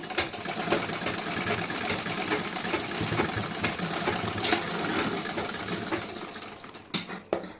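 A sewing machine stitches a blouse without interlock, running as a steady, continuous mechanical whir at close range with a couple of brief louder knocks near the end.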